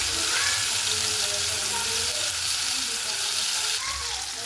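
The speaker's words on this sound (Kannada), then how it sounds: "ಹೀಗೆ ಒಂದೊಂದು ತುಂಬ್ಕೊಂಡಿರೋ ಬದ್ನೆಕಾಯಿನ ಇದರೊಳಗೆ ಫ್ರೈ ಮಾಡಬೇಕು." Stuffed brinjals frying in hot oil in a North Karnataka kitchen, a loud continuous sizzle that fills the whole stretch, with faint voices beneath.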